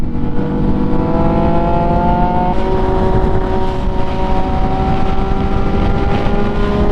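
MV Agusta motorcycle riding at speed and accelerating, a loud continuous engine note with rising harmonic pitch and steady wind rush, shifting once partway through, no talking.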